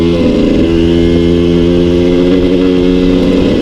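A Suzuki 125 TSR trail motorcycle engine drones loudly and up close off-road on a mountain track, holding a steady revving pitch with slight rises as it rides along.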